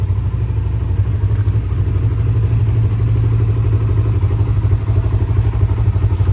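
A lifted 2020 Polaris RZR XP 1000 High Lifter side-by-side on portals and 40-inch tires idles steadily with a deep, loud engine rumble and some clattering throughout, close by.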